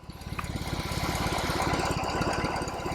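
A BMW R18 motorcycle's big boxer engine with a massive flywheel runs with a deep, even pulsing throb, close and steady, building slightly in loudness over a few seconds.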